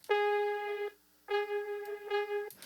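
A pitched synth impact layered with guitar in a trash guitar beat: two sustained, bright harmonic tones, each close to a second long, split by a short silence and heard alone.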